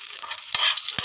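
Garlic sizzles in a hot frying pan as it is stirred toward golden brown: a continuous bright hiss broken by two sharp scrapes of the utensil against the pan, close up with no talk.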